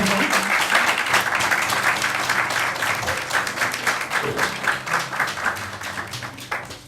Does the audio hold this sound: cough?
no